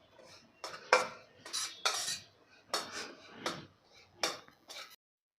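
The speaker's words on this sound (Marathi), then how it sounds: "सतत हलवत हलवत आपल्याला मंद गॅसवर भाजून घ्यायचं आहे" A spoon scrapes through semolina dry-roasting in a pan over low gas, for jaggery-and-coconut modak, in a series of short irregular scraping strokes with brief pauses, close and moderately loud, with no talking.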